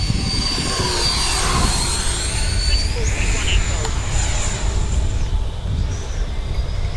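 FMS Viper 70mm V2 RC trainer jet in flight, a steady high electric ducted-fan whine that rises and falls in pitch as it passes, with a voice talking under it.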